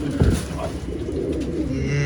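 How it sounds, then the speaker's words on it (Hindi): Pet pigeons kept indoors in a room in Jamshedpur coo in low, throaty, repeated calls, close and steady, with other birds murmuring behind and no clear talk. "ये 6 कबूतर जाने वाले हैं दोस्तों"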